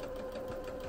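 Sewing machine running steadily while stitching a straight seam on quilted fabric, a continuous close whirring hum with a fast even mechanical rhythm and no voices.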